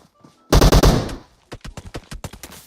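Automatic rifle fire in the mobile battle royale PUBG Mobile: a loud, close sustained burst, then a rapid string of separate sharp shots in uneven rhythm.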